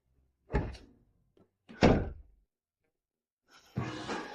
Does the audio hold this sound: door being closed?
yes